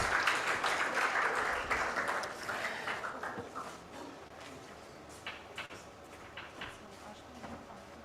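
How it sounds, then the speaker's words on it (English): Conference audience applause welcoming a speaker onto the stage at a programmatic advertising event, loud and dense at first, then thinning to scattered claps and faint shuffling noises. "Come on, ladies and gentlemen, a big round of applause."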